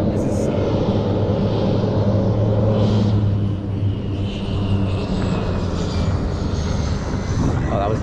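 A seaplane lands on water, its aircraft engine giving a steady, loud droning rumble throughout the eight seconds with no talk over it.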